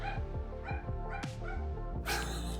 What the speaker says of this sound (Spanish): Los perritos se soltaron machín.